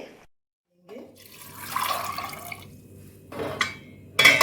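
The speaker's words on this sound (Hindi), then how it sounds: "इन्हें आप प्रेशर कुकर में डालेंगे और 2 कप पानी डाल देंगे।" Two cups of water poured into a pressure cooker over soaked, swollen white peas, a close liquid splash and fill heard in short bursts with a brief pause between them.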